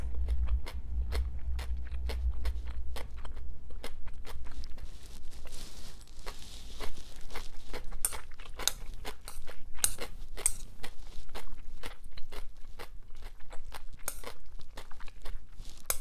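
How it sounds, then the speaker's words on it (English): Fresh garden cucumber bitten and chewed up close, a series of sharp wet crunches followed by steady rhythmic chewing that continues throughout. "This cucumber is actually from my mother-in-law's garden. It's actually super fresh. That's why you can hear really the crunchiness."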